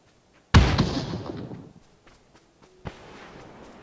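Grenade detonation in PUBG New State Mobile: a single sharp, close blast with a booming low end decays over about a second, followed by a quieter secondary thud and faint scattered crackles.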